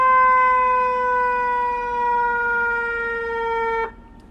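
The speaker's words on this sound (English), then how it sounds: "Then there's the manual cue siren button. So it's the electronic version of what a federal cue siren sounds like." A loud electronic version of a Federal Q siren holds a steady high wail for nearly four seconds, then cuts off abruptly.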